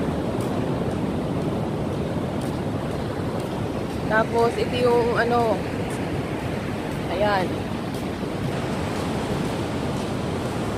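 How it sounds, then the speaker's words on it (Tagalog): High ocean waves at a beach in Da Nang, Vietnam rush and crash in a steady loud wash with wind on the microphone, while a person talks briefly over the surf midway. "Talagang sobrang taas ng alon."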